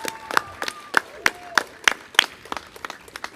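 A small outdoor crowd at a park pool event applauds children with sparse, distinct claps at an irregular pace, close and fairly crisp. A faint tone hums in the background.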